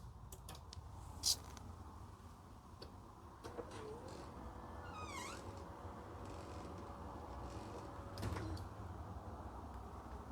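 A smart door motor runs open after a button press on a Zemismart ZM606 Matter smart switch, giving a steady mechanical hum with faint clicks and a louder thump near the end, heard alone indoors.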